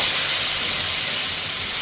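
Steady, loud hiss of hot oil sizzling with bay leaf and cumin, without a break, a bright spitting crackle filling the short stretch.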